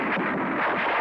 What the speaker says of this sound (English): everybody takes to cover when snipers fire from the cathedral tower